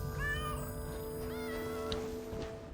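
Cats on a cat tree in a video game, several rising, drawn-out meows in quick succession, close and clear over a faint ambient hum, with no talk.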